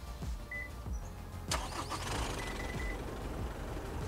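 A Nissan Navara or Isuzu D-Max pickup truck starts remotely from the key fob, with no one inside the cab. A sharp start burst is followed by a steady, moderately loud engine running at close range, and no one speaks.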